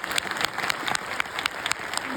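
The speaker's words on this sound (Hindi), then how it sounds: "भाई ताली बजानी है तो जोर से बजाना।" Audience clapping at a government appointment-letter ceremony, a steady dense patter of many hands throughout, fairly loud and close, with no speech over it.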